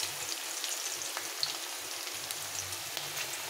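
Cumin powder, chilli powder and chana dal frying together over low gas heat, giving a soft, steady sizzle with light crackles throughout.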